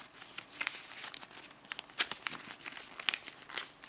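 Paper being folded into an origami wolf gives close, quiet crinkles and sharp crisp creases in irregular bursts, with no voices.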